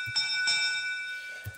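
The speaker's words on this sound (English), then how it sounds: "it'll go ahead and send you a little bell notification to let you know that you've done the specific mission from the competition." A short bell-like notification chime sounds in the SimBox Robosub simulator when a competition mission is completed, with a couple of bright ringing tones over a faint background.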